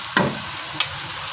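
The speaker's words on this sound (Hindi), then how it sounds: "बस थोड़ा प्याज को भून लें," Onions frying with okra in a pan, giving a soft continuous sizzle with two brief spoon scrapes.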